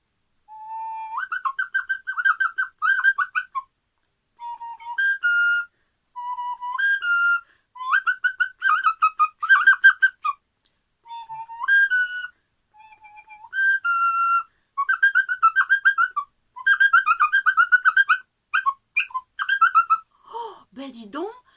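A person imitates chirping baby birds in a nest with high, fluttering whistled cheeps in quick bursts separated by short pauses, clear and close throughout.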